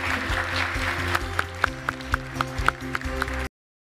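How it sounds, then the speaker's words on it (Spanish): An audience applauds at an award ceremony, with broad clapping joined by a few loud, regular individual claps standing out near the front before it cuts off abruptly. "Un fuerte aplauso."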